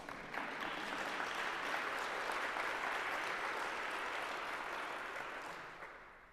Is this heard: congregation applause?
yes